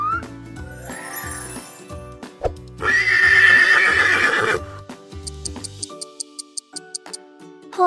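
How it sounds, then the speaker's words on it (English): A horse gives a loud, drawn-out neigh in the middle of a light, bouncy musical backing with clip-clopping hooves and tinkling chimes. "Horse."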